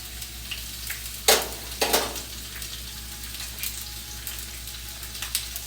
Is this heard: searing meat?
yes